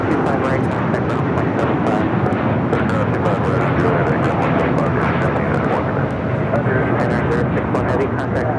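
A Japan Airlines Boeing 787-9 Dreamliner takes off at LAX, bound for Tokyo Narita. Its jet engines give a steady, loud, broadband roar that runs unbroken the whole time, with no voices over it.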